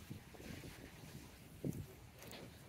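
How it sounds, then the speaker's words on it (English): Wind buffets a high rooftop viewpoint in Bangkok, a faint, gusty rush with low rumbling microphone noise and one brief stronger gust, with no voices. "that's a little windy in over here"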